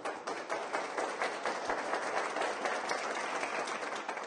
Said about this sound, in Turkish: alkışlarla uğurlandı